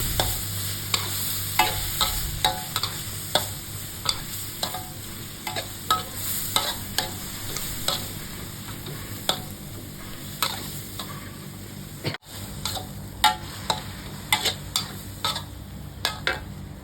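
Minced pork with seasoning and boiled bamboo shoots is stir-fried under a steady sizzle, with a spatula scraping and tapping the pan in a regular, repeated rhythm that pauses briefly near the middle.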